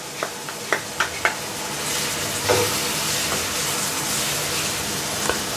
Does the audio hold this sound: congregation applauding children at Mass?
no